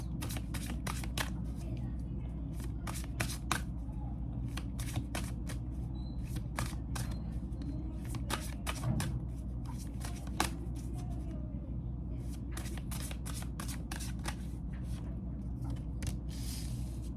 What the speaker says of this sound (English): I'm getting 2 cards from this oracle set